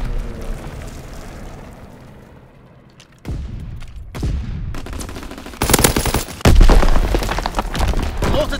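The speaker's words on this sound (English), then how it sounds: "Strafing run inbound." Strafing-run gunfire in Call of Duty WW2 multiplayer: sustained heavy machine-gun bursts and booming impacts, building from a distant rumble into loud, dense volleys of rapid fire that swell again toward the end.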